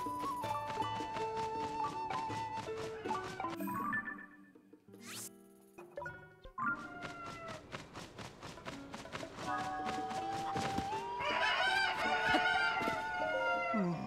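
Chickens cluck and crow in Zelda: Tears of the Kingdom, a busy layered flock of clucks over steady game music, with a brief quieter gap in the middle before the clucking swells again.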